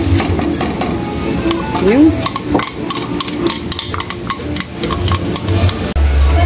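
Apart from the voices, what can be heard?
garlic sizzling in a thick pot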